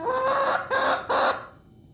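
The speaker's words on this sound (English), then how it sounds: "There you go, my little shoulder chicken." A pet chicken named Kagome, perched on a person's shoulder, clucks close up in three short bursts separated by brief pauses, the last call trailing off into quiet.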